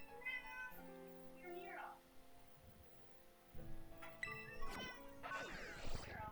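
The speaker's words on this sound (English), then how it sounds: "I don't mind the meowing." Cat meows from the Pokémon Violet video game, several short tonal mews mixed with game music and a few clattering hits, faint.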